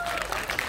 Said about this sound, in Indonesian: Boleh dong tepuk tangan untuk semuanya nih.